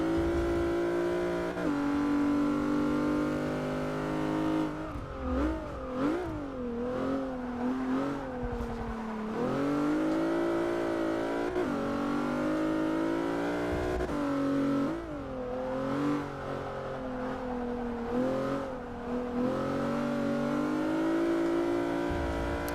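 A Plymouth Prowler races in Forza 6 on stock tyres, its engine rising and falling steadily as it revs through gears and corners, loud and continuous with no talk.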